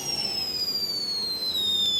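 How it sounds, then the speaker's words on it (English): A firework-like whistling item in the video game State of Decay 2 gives off a thin, high whistle that slowly falls in pitch, with faint overtones and a soft airy hiss underneath, steady and fairly quiet. "it's kind of like a combination between a firework and a whistling box mic"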